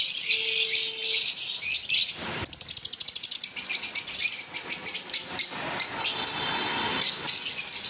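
Green and yellow Fischer's lovebirds chirp constantly at close range, with shrill overlapping high calls and rapid bursts of sharp tweets that stop only briefly.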